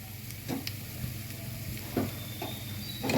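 Chana dal, mustard seeds and pepper sizzle steadily in hot oil for a tempering, a soft continuous crackle with a few brief louder pops from the pan, no voices.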